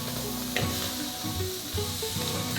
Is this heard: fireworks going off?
no